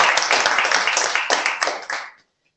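A church congregation claps in a short, rhythmic burst of distinct hand claps, loud and close, tapering off and stopping abruptly after about two seconds.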